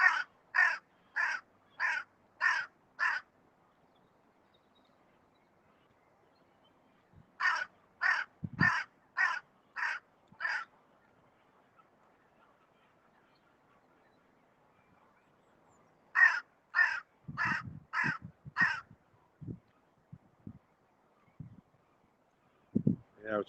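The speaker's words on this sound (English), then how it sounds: "Crows, come say hello." Crows caw at Trentham Gardens in three bursts of about five loud, evenly spaced calls each, separated by quiet gaps, while a person speaks briefly between the bursts.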